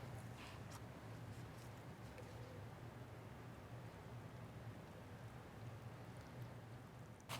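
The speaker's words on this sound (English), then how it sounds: "I'm just gonna water over this container here." Leftover nutrient water is poured over a potted plant container, making a faint, steady trickling hiss that runs unbroken and quiet throughout.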